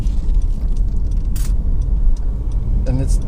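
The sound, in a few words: Honda CR-V 2.2 i-DTEC driving on rough road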